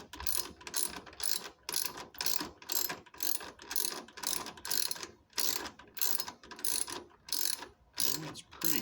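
A ratchet clicks in repeated bursts of quick pawl ticks as a headlight bracket bolt is tightened on a 2016 Jeep Cherokee Limited, close and fairly quiet, with no talking.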